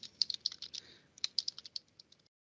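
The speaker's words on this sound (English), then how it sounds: "So we would have to go in and type those in." Typing on a computer keyboard while entering recipe preparation instructions in menu-planning software, a close run of quick, uneven key clicks lasting about two seconds before stopping.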